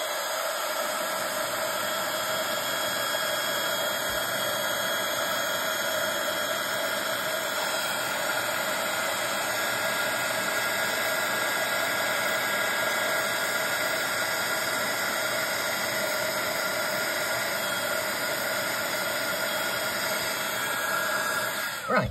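A heat gun blows steadily onto a tile, melting gold embossing powder, with a continuous hairdryer-like roar and hiss that stays loud and even throughout, no voices.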